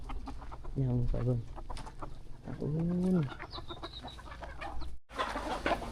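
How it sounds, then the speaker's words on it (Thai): Chickens cluck and squawk nearby in a few loud drawn-out calls, while a person speaks briefly over steady background noise. "เพิ่นเลี้ยงไก่นี่คักอีหลี เลี้ยงไก่นี่คักแฮง"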